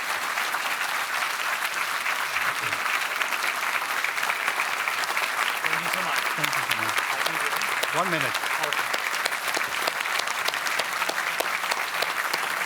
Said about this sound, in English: You have to take the applause